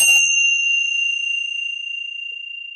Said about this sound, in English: the sound of the bell as it gradually fades away, that would be your object